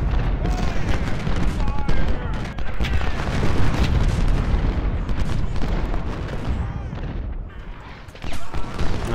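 Dense, rumbling battle noise from the video game Ultimate General: Civil War, with repeated gunshots and booming artillery blasts, thick and continuous, with a voice talking over parts of it.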